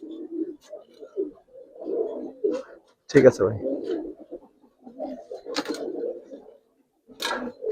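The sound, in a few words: Giribaz and coloured pigeons cooing in a cage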